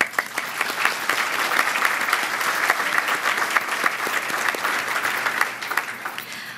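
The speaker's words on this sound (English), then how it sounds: "Please give them all a round of applause." An awards ceremony crowd applauds steadily, a dense patter of many hands clapping throughout.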